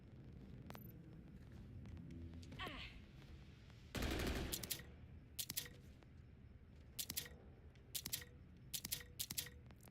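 Rapid assault rifle fire in the Borderlands 4 video game, a few short sharp bursts and a louder sustained volley, with game sounds and a voice underneath.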